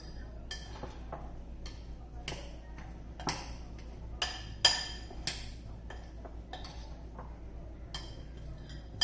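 Eggs mixed with a spoon in a kitchen bowl, a series of light irregular clinks and taps of metal against the dish, close and soft.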